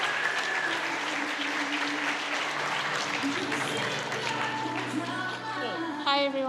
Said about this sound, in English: let's give a massive round of applause for Erica Perry.